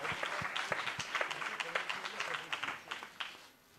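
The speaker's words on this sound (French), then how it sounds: "les applaudissements, les applaudissements, les applaudissements" A crowd applauds in a steady, rhythmic clapping that fades out near the end, with no talking over it, at a press conference for the Grand Raid race.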